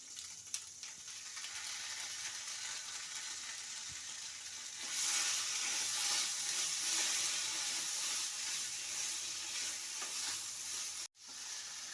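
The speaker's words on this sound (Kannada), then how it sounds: "ಎಣ್ಣೆಲಿ ಫ್ರೈ ಆಗಿದೆ ಈಗ ನಾನು ಇದಕ್ಕೆ ರುಬ್ಬಿಟ್ಕೊಡೋಣಂಥ ಮಸಾಲಾನ ಹಾಕ್ತಾ ಇದ್ದೇನೆ" Ground masala paste sizzles and fries steadily in hot oil for Kaju Soya Crunch Gravy, with a louder crackling surge midway and occasional stirring scrapes, no talking.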